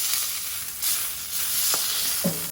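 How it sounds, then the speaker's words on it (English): Pork carnitas searing in hot oil and rendered fat give a steady close sizzle, with a couple of brief clinks or stirring knocks near the end. "sear up the next batch"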